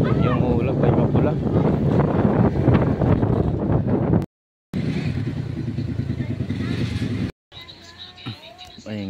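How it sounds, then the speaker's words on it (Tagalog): Strong gusts from Typhoon Pepito batter the microphone with loud rushing roar, broken by two sudden dropouts, while a voice talks over the blustery noise. "Pero mahangin na."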